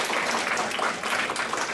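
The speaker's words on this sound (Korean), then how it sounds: "발표해주신 우리 밥풀에게 한 번 더 감사의 박수." Sustained applause from a conference audience thanking presenters at a cooperative childcare academic session, a dense, steady clatter of many hands throughout with no voices over it.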